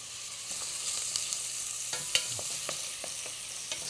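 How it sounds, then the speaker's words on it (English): Onion stirred in a pan while making stuffed artichoke soup: a soft, steady sizzle with scattered scraping taps from the spoon at irregular intervals, close and fairly quiet. "we'll give the onion a nice quick stir"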